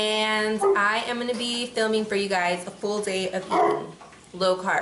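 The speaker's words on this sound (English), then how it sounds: "That's my dog in the background." A dog barking in the background indoors, wanting to come inside, faint yips heard under someone speaking close to the microphone.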